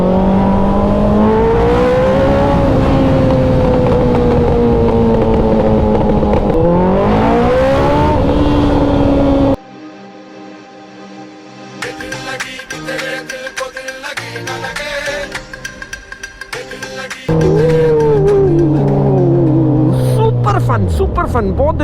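A motorcycle engine revs hard and close with rising and falling pitch, its loud roar briefly dropping away to wind and road noise before surging back, with a voice talking over it.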